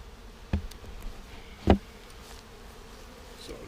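Honey bees from an opened package bee colony humming steadily close by, a soft continuous drone broken by two brief knocks of hive handling, with no talking.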